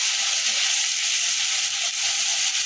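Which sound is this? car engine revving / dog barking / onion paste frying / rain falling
onion paste frying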